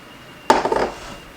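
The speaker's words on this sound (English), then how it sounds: "Now we're going to add all the pears and it will help it loosen" Pears are stirred into a thick pear bread batter, giving a short burst of dull scraping, clinking mixing sounds close by, lasting under half a second, with no talking.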